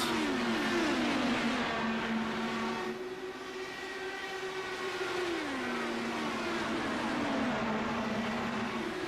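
IndyCar race cars in a racing video game on the Phoenix oval, a sustained high engine whine shifting pitch as cars follow closely through corners, with several engines layered together, steady and fairly loud throughout.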